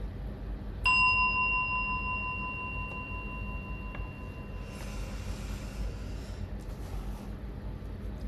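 A single meditation bell is struck once to begin a short sitting, giving a clear ringing tone that swells then decays slowly over several seconds in a quiet room.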